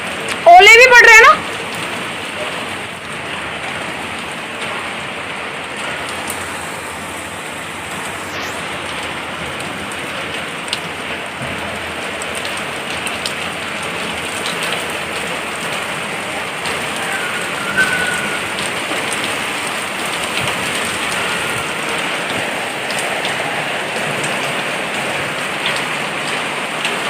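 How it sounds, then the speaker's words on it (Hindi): Heavy rain mixed with falling hail, a steady dense hiss on surfaces throughout, with a brief loud clatter at the very start and occasional faint knocks. "ओले भी पड़ रहे हैं ना।"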